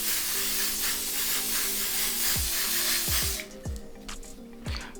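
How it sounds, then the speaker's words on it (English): Hairspray hisses from an aerosol can onto a glueless lace wig in a steady, close burst of about three seconds, then stops, leaving a few faint taps and handling noises. "So I'm gonna go in with some hairspray."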